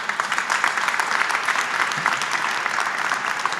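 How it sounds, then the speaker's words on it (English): Steady applause from an audience at an outdoor El Grito de Independencia celebration, dense and even for the whole stretch at moderate volume, with no single voice standing out. "An applause for all of them, please."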